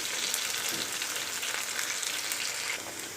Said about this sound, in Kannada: ಎರಡು ಕಡೆನೂ ಚೆನ್ನಾಗಿ ಬೇಯಿಸ್ಕೋಬೇಕು ನಾವು ಇದನ್ನು.